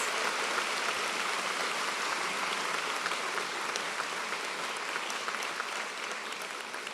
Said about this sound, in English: So maybe you have one big round of applause for all our wonderful new MIC PhDs